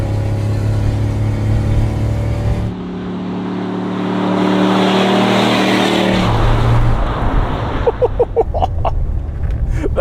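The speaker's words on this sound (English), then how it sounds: "Naturally aspirated V8, it sort of has to work for it, but my God, it sounds so good." A naturally aspirated V8 in a dual-cab ute roars loudly under full throttle, its steady drone climbing in pitch before easing off into rumbling gear changes and bursts of revving.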